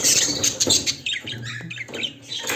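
Young pet birds chirp in an aviary: a busy, uneven mix of high tweets and squeaky calls with soft fluttering and scuffling, close by and fairly loud, with no talking.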